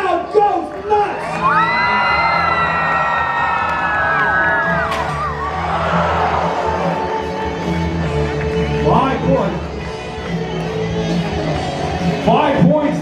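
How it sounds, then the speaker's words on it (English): A crowd at a joust at the Ohio Scottish Games roars and cheers, with whoops and shouts rising over a broad, sustained wash of noise and an announcer's voice calling over it. "And the crowd goes nuts!"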